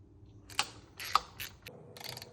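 Parts of the upper intercooler pipe coming off a Mitsubishi Ralliart, with faint mechanical clicks and a couple of sharp metallic ticks and rattles, close but quiet, no voices.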